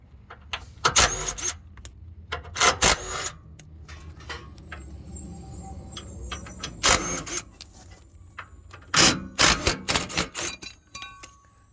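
Two 12mm bolts are worked loose from a cross member brace under a 3rd gen Toyota Tacoma, with bursts of metallic ratcheting and tool clatter spread across the stretch between quieter pauses, close and fairly loud.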